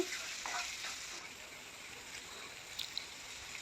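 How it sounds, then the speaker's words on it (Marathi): Chopped onion with a pinch of salt softly sizzling as it sautés in a pan, a faint, steady frying hiss with a few light stirring touches near the end. "कांदा लवकर शिजावा म्हणून मी चिमूडभर मीठ घालते आहे कांदा परतून घेते आहे"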